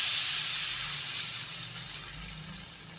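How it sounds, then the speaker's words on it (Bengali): Mustard seeds being strained out of water in a home kitchen, a soft steady watery hiss of liquid pouring through that slowly fades, no speech. "দেখো সর্ষেটা জল থেকে এইভাবে ছেঁকে নিচ্ছি"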